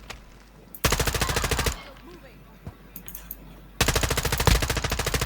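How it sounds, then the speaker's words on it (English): Machine gun fire in the Warzone video game, two loud, close rapid bursts separated by a quieter gap with scattered game noises. "I shot him twice while he's down"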